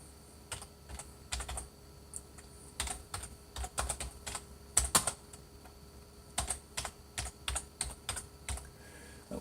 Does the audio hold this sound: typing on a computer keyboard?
yes